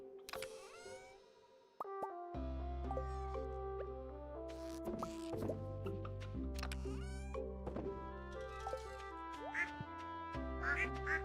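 Ducks quack on a farm in the video game Stardew Valley, short calls popping up over steady game music with layered melodic tones throughout.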